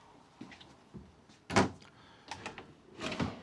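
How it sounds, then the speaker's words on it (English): Soft-close storage drawers in a 2021 Lance 1995 RV, closing with a few gentle low thumps and faint sliding rubs, one firmer close in the middle, heard up close in a quiet interior with no talking. "Got 2 storage drawers that are soft close."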